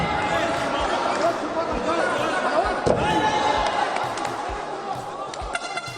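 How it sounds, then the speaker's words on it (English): At an indie MMA event, a fighter is spun around and slammed face first onto the canvas, landing with a single sharp thud amid ongoing crowd chatter and cheering, with voices talking throughout. "this last one was just brutal as he got spun around and went face first into the canvas"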